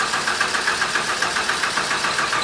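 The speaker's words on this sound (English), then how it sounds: "we'll turn the motor over and turn the wheel at the same time" A Ford 4.9L inline-six engine runs steadily while the power steering system is bled, a close, even mechanical drone with a faint rhythmic pulsing and no speech.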